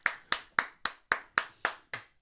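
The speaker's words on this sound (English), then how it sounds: "let's clap for Ted." Eight sharp hand claps in a steady, even rhythm, close and fairly loud, with no voices.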